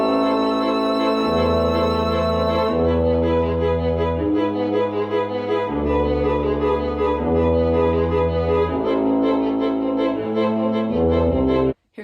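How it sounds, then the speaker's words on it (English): A synth-driven funeral march with sampled trombone, tuba, cello and violin plays a slow, spooky ensemble passage with steady stepping bass notes, loud and continuous until it cuts off abruptly at the end. "For this funeral marching band, I played the synth and we sampled some sounds for trombone and a tuba, and also a cello and a violin."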